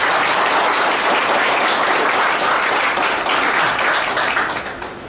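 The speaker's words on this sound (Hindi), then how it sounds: "उनके काम के लिए बहुत जोरदार तालियां प्लीज।" Loud, dense applause from the crowd at an Eid Milap program, sustained and close for about five seconds before it starts to thin and fade at the end.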